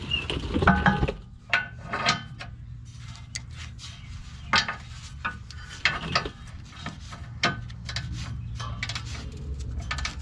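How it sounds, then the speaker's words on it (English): A ratchet wrench tightens a bolt on an aluminum evap can skid plate of a 2008 Jeep JKU, giving a string of close, sharp clicking ratchet strokes in irregular bursts with short pauses between. "we'll get that one on top with a wrench"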